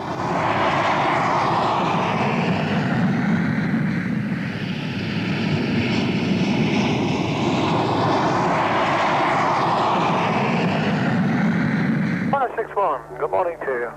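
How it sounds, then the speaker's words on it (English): A SEPECAT Jaguar jet aircraft landing on a motorway gives a loud, steady engine roar with slowly shifting whine that fills the whole stretch, cutting off near the end into quieter background sounds. "And so does this Jaguar, dropping in on a motorway."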